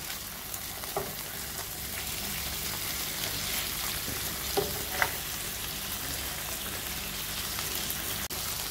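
Grilled chicken sizzles and crackles steadily on a grill, a continuous close frying hiss with a few faint clicks and taps.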